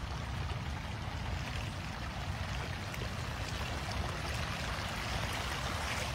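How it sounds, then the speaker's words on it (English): Stormwater running off the street flows through a one-rock dam in a park on a river floodplain, a steady, continuous rush and trickle of water that stays even and close throughout with no voices. "This water is coming off the street and moving through the park"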